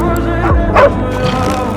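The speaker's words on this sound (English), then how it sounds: "The dog is trying to warn us." A small dog gives a short sharp bark with a yip-like whimper, close and loud over dramatic background music, in a wartime gas-attack scene.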